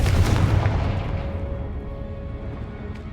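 A Confringo blasting spell explosion in the Hogwarts video game: a deep booming blast at the start that rumbles and fades away over a few seconds, fairly quiet, with no speech.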